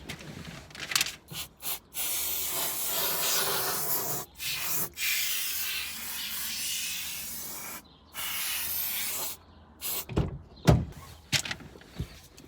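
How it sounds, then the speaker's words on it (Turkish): Würth silicone spray hisses in several short and long bursts onto a car's power window mechanism, loud and close, broken by brief pauses and a few clicks and rubbing noises. "Buralara da sprey sıkacağım şimdi. Silikon sprey."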